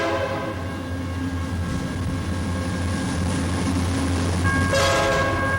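A train rumbles past steadily up close with a sustained horn blast ringing over the rolling noise, the horn swelling louder near the end.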